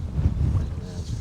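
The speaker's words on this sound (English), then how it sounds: "Yeah, it's very breezy." Wind buffets the microphone beside a river where brown trout are being fly fished, a steady low rumbling roar that fills the whole brief moment.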